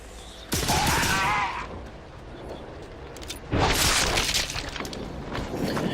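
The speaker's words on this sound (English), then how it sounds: "The right one is a rapid-fire machine gun that fires lightning." Weapon fire from the darkness guns in The Darkness, including a rapid-fire lightning machine gun, comes as two loud, dense bursts of crackling, shattering blasts separated by a quieter stretch of game ambience.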